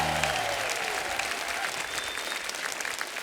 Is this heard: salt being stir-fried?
no